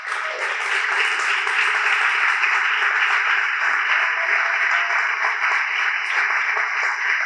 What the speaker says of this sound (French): Je vous propose de leur refaire des applaudissements, de leur redire bravo.